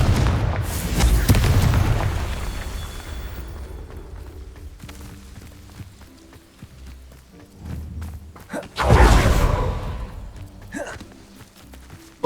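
Explosions from the Bombarda and Confringo spells in the Hogwarts Legacy video game, two heavy, rumbling booms, one early and one later, each with a long decaying tail, with quieter footsteps and thuds between them.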